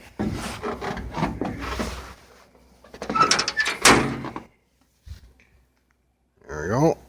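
A cab or access door on a Hitachi EX1200-6 hydraulic excavator opens and shuts with a nearby metallic clunk and rattle, following a stretch of talk and a brief gap of near silence.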